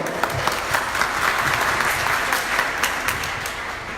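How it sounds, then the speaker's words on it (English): A room of job seekers at a Detroit job fair held at Muath Masjid breaks into sustained applause, many hands clapping evenly and fairly loudly for the full few seconds. "give yourselves a round of applause for being in the room"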